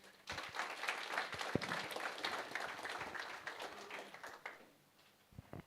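An audience applauds at a youth post-election dialogue, a dense, steady wash of many hands clapping close by that thins out near the end.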